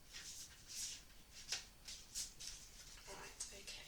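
A deck of oracle cards shuffled by hand in soft, repeated riffling bursts at an irregular rhythm, close but quiet, with no talk.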